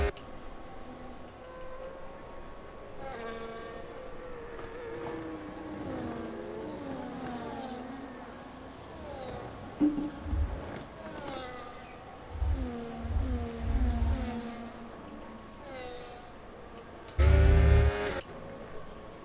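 Race cars in a sim-racing game of the Spanish Grand Prix, with a chrome McLaren and an Aston Martin among them. Engines whine and rise and fall in pitch as they accelerate and pass, with a loud thud near the end.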